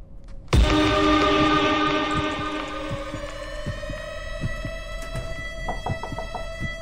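A loud train horn blares suddenly and slowly fades, leaving a rumbling rail noise with steady rhythmic clacks.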